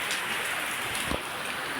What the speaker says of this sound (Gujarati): વરસાદ ચાલુ થઈ ગયો છે ભાળો